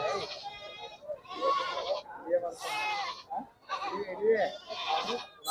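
Young goat kids bleat repeatedly at a weekly goat market in Kolhar, with overlapping calls from several animals close by amid crowd chatter.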